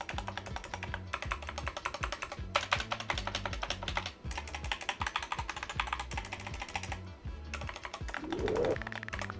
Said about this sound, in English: these backspace and enter key stabilizers sound fantastic